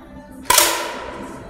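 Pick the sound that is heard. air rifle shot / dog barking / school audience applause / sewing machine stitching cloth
air rifle shot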